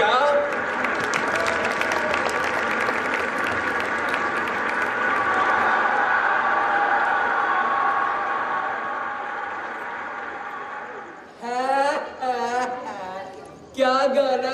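Stage-play audience clapping on cue, a dense burst of applause that swells and then fades, followed by voices speaking alone once the clapping stops.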